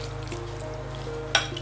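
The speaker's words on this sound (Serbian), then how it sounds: "Sada ću luk i pasulj promešati" Onion and beans stirred in a pot over a low, steady hum and faint sizzle, with one short scraping clink near the end.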